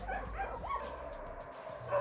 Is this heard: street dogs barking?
yes